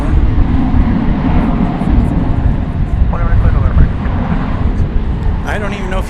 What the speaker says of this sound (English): American 2360 going to Las Vegas on that A321